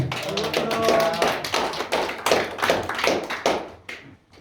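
Audience applause at the opening ceremony of a day activity centre for people with developmental disabilities in Cheorwon County, a dense patter of clapping hands filling the room for several seconds before tapering off.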